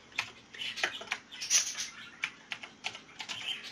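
Rapid, uneven typing on a computer keyboard, clattering keystrokes in irregular bursts close by, with no talking.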